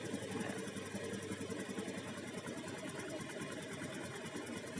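A Honda Pop automatic fuel-injected motorcycle engine idling at its standard 1400 rpm, giving a steady, fast, even mechanical putter with a faint ticking rhythm, quiet and unbroken throughout.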